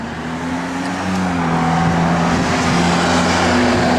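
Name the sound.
car engine with Flowmaster dual exhaust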